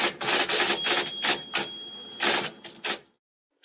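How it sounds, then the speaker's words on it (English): A vintage typewriter types in a quick, uneven run of sharp key clacks that stops abruptly near the end, followed by a brief pause and one more click. "That's a vintage typewriter composing the works of Shakespeare."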